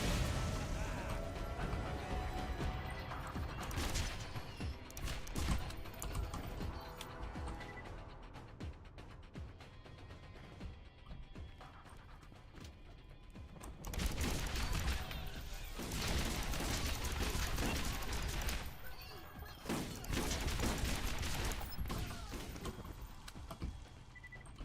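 Gun firing in the video game Borderlands, a series of loud, rough bursts of gunfire with short gaps between them, heard over a constant rumbling game background across the whole stretch.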